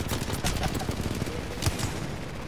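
Rapid bursts of gunfire in a shooter video game, dense overlapping shots at close to mid range in uneven clusters, with faint voices under the firing.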